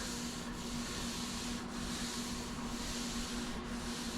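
Steady, continuous abrasive rubbing of a sanding block worked by hand across a Dodge car door panel being prepped, with a constant hum underneath and slight rhythmic strokes, close and loud throughout.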